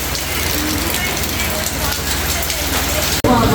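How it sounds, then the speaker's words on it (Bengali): Steady, dense rain pouring down in a constant hiss, close by, with a brief interruption near the end. "প্রচুর বৃষ্টি হচ্ছে এখন"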